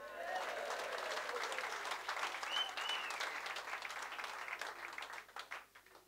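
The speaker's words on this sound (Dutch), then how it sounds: "een applaus is op zijn plaats." Applause from an audience at a roast, moderately distant and continuous, with a few voices and a brief whistle-like tone rising over the clapping before it thins out and ends in scattered claps.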